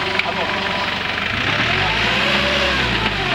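An off-road 4x4 engine revs and churns steadily as the vehicle pushes forward, a close continuous mid-pitched drone with a voice talking over it.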